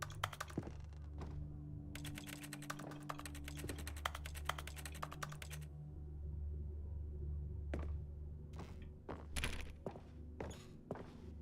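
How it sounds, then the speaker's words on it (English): Rapid keyboard typing clatters in the video game The Stanley Parable over a steady low hum, a dense burst of keystrokes followed by scattered single taps and a few soft thuds, fairly quiet throughout. "Did anybody hear that I was typing on nothing?"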